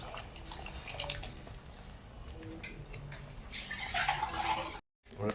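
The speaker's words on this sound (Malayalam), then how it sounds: "ഉള്ളിവെള്ളം ഒഴിക്കാം" Water splashing and trickling as onion water is poured into a pot of fish curry with fish pieces, fairly faint with wet, bubbly texture, ending abruptly.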